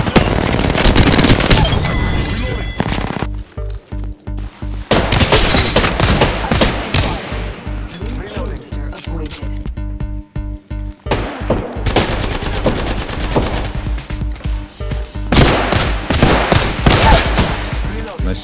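Gunfire in the video game Apex Legends: loud, dense bursts of automatic shots in several long volleys, separated by short quieter gaps, with no talk over it.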